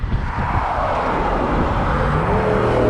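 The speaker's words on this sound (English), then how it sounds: "There goes a truck that's burning up to sweep all this loose gravel on the side here." A truck drives past on a gravel road littered with loose rocks and glass, a loud, steady vehicle roar that swells as it passes close by, with continuous road and wind noise throughout.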